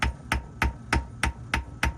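A hammer softer than the workpiece taps seven times at an even pace along the edge of a metal part from a South Bend lathe headstock, each strike a crisp, close metallic knock.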